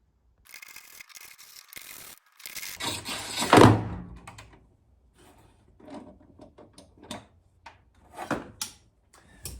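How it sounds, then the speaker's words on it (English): Inside a Foxbody car door, a window motor drops to the bottom of the door panel with a single loud thunk and clatter, set among quieter scrapes and rattles of someone working on the door. "that sound you just heard is the window motor falling to the bottom of the door"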